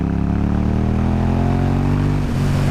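KTM Super Duke motorcycle pulling hard in fourth gear from around 4,000 rpm, a loud, steady engine drone with rising harmonics that holds for the whole stretch, close and continuous with no talk over it.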